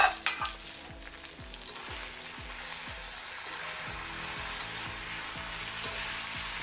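Star fruit pieces fry in a pan for pachadi while a spoon stirs them, giving a steady bright sizzle with a run of rhythmic scraping strokes, close and continuous, with a knock at the start.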